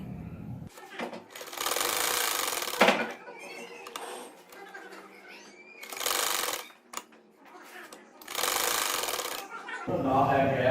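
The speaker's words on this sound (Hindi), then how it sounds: "अब इसी तरह जो है वो मैं अपनी सारी जो टाइज हैं उनको सिलाई लगाती जाऊंगी" An electric sewing machine stitching fabric ties for a butterfly-tie salwar hem design runs in several sustained bursts of steady rapid whirring, separated by short pauses with quieter handling noise.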